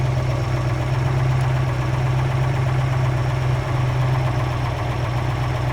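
A Lamborghini Urraco P250 engine idles roughly in a workshop, a steady low droning hum with an uneven, lumpy pulse underneath, heard alone at moderate level with no speech.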